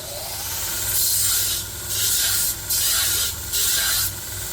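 A belt grinder with a 120 grit belt sands a damaged Dalstrong knife in four loud, close hissing passes, each a second or so long, separated by the quieter run of the machine.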